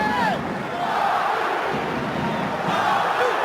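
Stadium crowd at a European Rugby Champions Cup match between Stade Francais and Munster, a loud continuous roar of cheering and chanting that swells and holds throughout.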